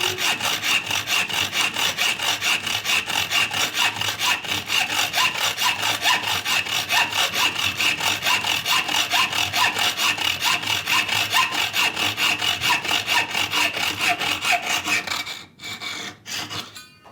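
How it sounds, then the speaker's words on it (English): A hacksaw cuts threads off a steel rod for a router plane kit, a fast, even back-and-forth rasping of dozens of strokes, close and loud, ending with a few slower strokes. "we're just going to go with a hacksaw and take about 4 threads off here for me"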